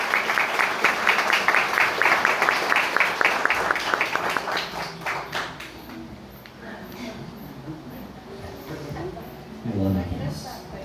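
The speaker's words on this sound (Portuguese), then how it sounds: "Salve de palmas!" Applause at a wedding ceremony: a crowd claps steadily and briskly for several seconds, then the clapping thins and fades into room murmur as a voice speaks over it.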